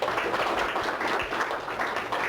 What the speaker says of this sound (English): Big round of applause for the lady